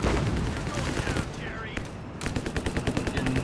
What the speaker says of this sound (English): Getting the guns there blazing away. And his machine guns on the move.